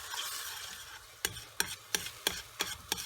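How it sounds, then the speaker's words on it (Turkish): A ladle clinks against a pot in five or six sharp, evenly spaced knocks after a soft stirring hiss, as broth is added to chicken soup while cooking. "Suyumuzu yani kepçe yardımıyla suyunu koyuyoruz"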